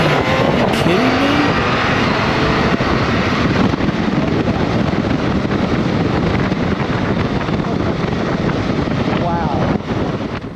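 A 2022 BMW K1600 GTL touring motorcycle with its 1649cc inline six-cylinder engine pulls hard in sport mode, a loud sustained engine roar smeared with heavy wind buffeting for about ten seconds, while a rider talks over it.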